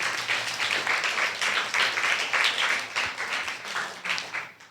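A church congregation applauds steadily, a dense wash of many hands clapping at close range that holds for several seconds before tapering off.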